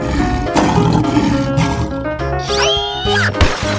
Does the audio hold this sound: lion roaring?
yes